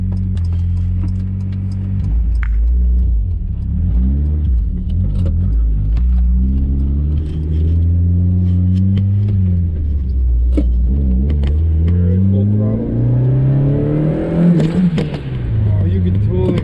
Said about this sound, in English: I'm just gonna probably do a second gear pull so we should be able to spool it up